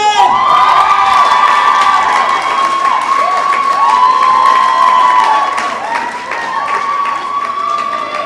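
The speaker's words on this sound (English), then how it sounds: "Please put your hands together" At a Down Rose of Tralee event in 2015, a crowd in a hall cheers, whoops and applauds loudly and continuously, with high children's shouts riding above the clapping and easing slightly toward the end.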